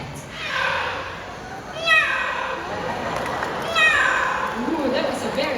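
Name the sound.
parrot imitating a cat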